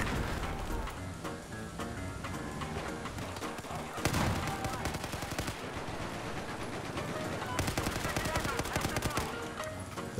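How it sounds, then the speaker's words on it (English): Sniper rifles and other gunfire crackle through a Battlefield video game match, a dense, busy stream of shots, a sharp heavier report partway through, and a faint voice beneath the combat din. "so many sniper shots, I don't know who hit me"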